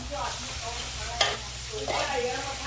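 Steady sizzling of duck stir-frying in a hot wok, with scraping stirring strokes and one brief metallic clank.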